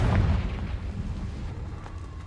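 A Confringo blasting spell detonates in Hogwarts Legacy on PS5 as a single loud, low boom at the start, then a rumbling tail that fades over a couple of seconds.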